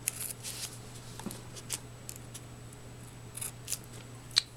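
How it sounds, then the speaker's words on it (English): Scissors snip paper for a scrapbook banner in several quick, crisp cuts spaced irregularly, close and fairly quiet against a soft background hum. "And I'll snip it there and then bring it up"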